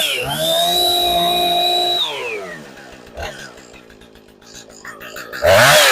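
A chainsaw revs loud and high, then drops to a rough idle, with a burst of revving at the end.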